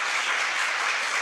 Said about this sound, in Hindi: जोर से ताली लगाओ।